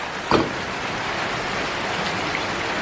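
Steady rain falling, a continuous dense hiss of drops on surfaces, close and fairly loud, with one brief louder knock near the start.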